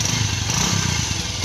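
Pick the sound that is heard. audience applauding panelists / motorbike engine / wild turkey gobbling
motorbike engine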